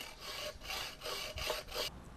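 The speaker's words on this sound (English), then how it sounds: "undo the nut, and it just kind of corrects the thread a little bit, allowing you to file it down easier" A file rasps back and forth across a bolt's damaged thread in steady, rhythmic strokes, about five passes in two seconds, close and fairly quiet with nothing else heard.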